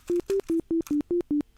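A GAN smart Rubik's cube gives seven short, clean electronic beeps in a quick, even rhythm as a J perm is performed. The pitches shift slightly from note to note, alone and fairly quiet.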